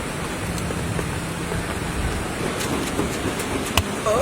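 Rain falls steadily with a dense, even hiss and a few sharper drops landing nearby, with no voices.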